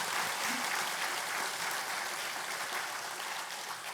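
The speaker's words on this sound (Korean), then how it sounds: "오늘 또 박수를 쳐드릴까요?" Applause from a congregation at a Won Buddhist temple Dharma service, a steady wash of clapping that holds for about four seconds and eases slightly toward the end, with no voices over it.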